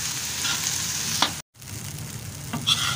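Egg fried rice sizzles steadily in a hot pan while it is stirred, with occasional scraping clinks of the utensil and a brief dropout in the middle, and no voices.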